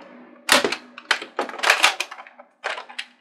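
A Ceda toy blaster fires a shot, a sharp mechanical snap followed by several quick clicks and clatters close by, with no talking.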